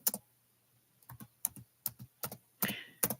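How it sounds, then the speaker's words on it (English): Keys on a computer keyboard clack in irregular bursts of taps with short pauses between them, close and fairly loud, with no talking. "you're typing on the computer that's connected to the recorded computer"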